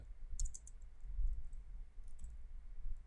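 Light, quiet keystrokes on a computer keyboard while writing text in Notepad, a few scattered taps over a low steady room hum.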